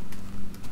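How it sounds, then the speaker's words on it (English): Horse hooves clip-clop in a frozen-kingdom video game, a few soft, quick footfalls from restless horses shifting in place over a low steady hum. "These horses really don't know how to stay still, do they?"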